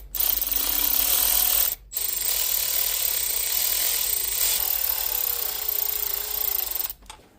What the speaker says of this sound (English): These bolts can be sometimes tricky to get started.